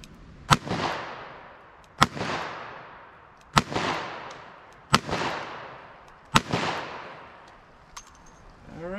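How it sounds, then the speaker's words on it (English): Five sharp gunshots with 125-grain bullets fired toward water, evenly spaced about every second and a half, each a loud crack trailing into a rumbling outdoor echo, with a fainter sixth report near the end. "I'll stand up with a shot, see what happens."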